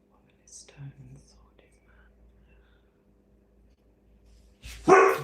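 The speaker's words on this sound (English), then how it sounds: "Sorry, the dog just scared me." A sudden loud dog bark bursts in near the end, close and sharp, after several seconds of hushed whispering from a person.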